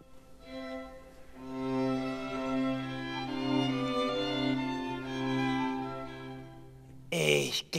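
An orchestra plays the opening bars of the Romanze from Eine kleine Nachtmusik, with sustained string tones and a soft, repeated knocking figure underneath, moderately quiet, followed by a brief burst of other sound at the end.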